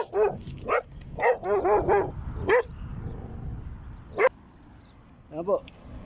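A stray dog barks in sharp, repeated bursts, close and loud, with a few high yips and a whimper between them and a quiet pause near the end.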